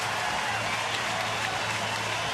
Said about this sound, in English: So he'll get a nice round of applause as he exits the field.